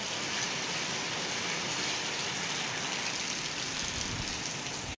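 Heavy rain pours down steadily, a dense continuous hiss of drops striking surfaces close by, loud and unbroken with no voices over it.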